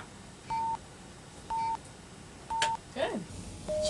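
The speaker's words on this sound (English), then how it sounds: "The tones are computer-generated signals used to calibrate the implant." Three short, identical steady cochlear implant calibration beeps sound at even one-second intervals, followed by a soft voice and another pitched beep, in a quiet room.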